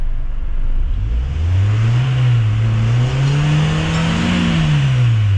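A Nissan X-Trail engine with a faulty accelerator pedal position sensor revs up and holds high, its pitch rising and falling in waves over several seconds, loud and close with no talking.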